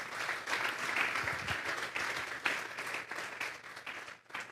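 A church congregation breaks into steady, dense applause that holds for several seconds, a broad wash of many hands clapping at once with a few sharper claps rising out of it.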